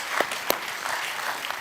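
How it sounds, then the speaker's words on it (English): Brief audience applause for panel members at an international IP enforcement summit, a soft, diffuse patter of clapping from a moderate distance with a couple of sharper claps standing out. "give a big applause to the two members of the panel"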